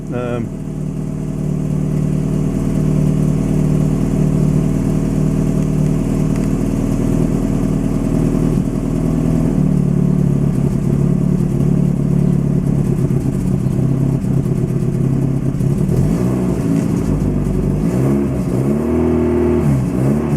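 A Lotus Excel engine with rebuilt carburettors and fresh fuel runs steadily for the whole stretch, a low continuous rumble with slight rises in pitch near the end, fairly close.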